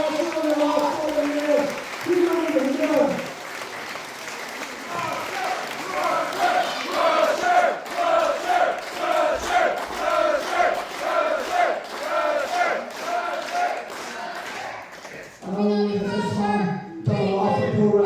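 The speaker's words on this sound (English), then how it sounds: "But give this man one more applause." At a professional wrestling retirement match, an arena crowd cheers and chants in rhythmic waves with some clapping, loud and reverberant, while a voice on a microphone talks at the start and end.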